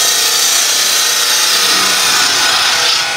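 A bowl gouge cutting spinning wood on a lathe while turning wooden fruit, a loud, continuous hissing scrape that stays steady and close for the whole stretch, with no talking.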